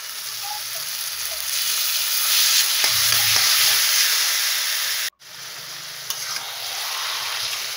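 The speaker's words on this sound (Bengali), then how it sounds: "এদিকে আমি সেদ্ধ করা কচু শাক দিয়ে দিচ্ছি কড়াইতে।" Boiled taro leaves hit a hot wok and fry with a loud, continuous hissing sizzle, a few low knocks of stirring, and a brief cut before the sizzle resumes.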